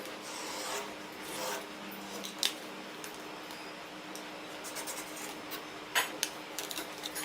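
Napkin fabric for Christmas napkins being cut along a ruler, heard as quiet scraping and rasping strokes with a few sharper clicks, close and faint, no voices.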